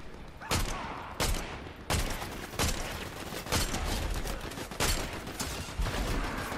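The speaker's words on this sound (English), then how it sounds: "now we're gonna hunt them with the Hunter DMR" Hunter DMR rifle shots ring out in Fortnite Chapter 5 Season 2, about eight loud, sharp reports fired at a steady, spaced rhythm, each cracking out over a continuous background roar.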